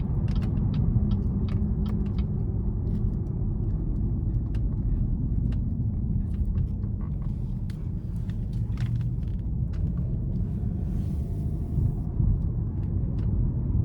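Cabin interior of a 2017 Buick LaCrosse Premium cruising in normal mode, a steady low road and engine rumble with faint scattered creaks and ticks, no talk.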